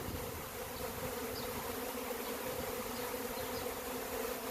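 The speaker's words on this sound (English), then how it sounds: "it's got a swarm checking it out now" A swarm of bees settles into an old log hive outdoors, giving off a faint, steady, many-voiced buzzing drone that never lets up.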